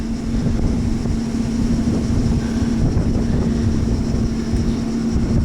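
Steady, broad rushing noise with a constant low hum, continuous throughout like wind buffeting outdoors, no voices.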